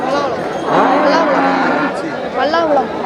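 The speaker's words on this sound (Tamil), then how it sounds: "வண்டி மாடு" Cart bulls at a village cattle market in Melapalayam lowing in long, loud moos, with a second call following after a short pause, all close by amid market noise.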